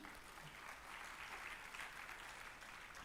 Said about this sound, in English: Let's give a loud applause to all our panelists for today